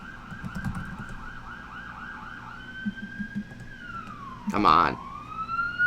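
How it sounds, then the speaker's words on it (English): Emergency vehicle sirens wail and whoop through Toronto streets in the background, with one siren sweeping up and down and another sliding in pitch. A brief loud horn-like blast cuts in near the end, and a voice speaks a couple of words. "Sirens of Toronto in the background."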